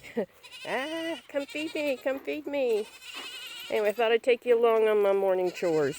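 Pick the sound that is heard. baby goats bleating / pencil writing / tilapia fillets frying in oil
baby goats bleating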